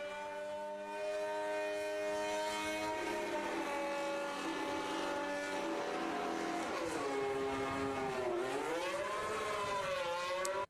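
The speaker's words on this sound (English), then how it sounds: "So that initial revving of the engine" A 2026 Formula 1 car engine at Silverstone practice revs in a long, high whining drone that holds, rises and wavers, fairly faint and without voices.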